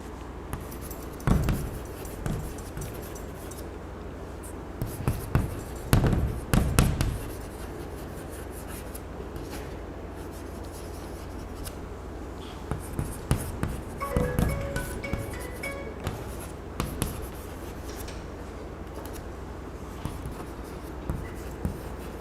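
Writing on a board during a physics lesson, with bursts of scratchy strokes and taps that come and go over a steady room hum and stop between the bursts.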